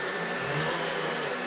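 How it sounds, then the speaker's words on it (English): A Miele TRIFlex HX2 PRO cordless vacuum cleaner runs on a hard floor and gives a steady, loud broadband whir that holds constant from start to end, with no voices. "So here we go, we're vacuuming on hard floors."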